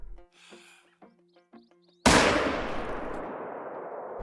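A single loud rifle gunshot in the hunting video game theHunter: Call of the Wild, fired during a mule deer hunt, cracking sharply after a few quiet game sounds and trailing off in a long echoing decay.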